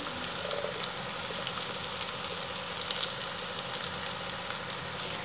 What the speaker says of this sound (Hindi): मसाला भुन चुका है अच्छे से